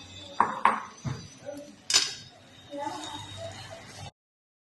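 Roasted semolina tipped into a pan for making ladoos, with a few sharp metallic clinks of utensil on pan followed by softer scraping, while someone speaks over it.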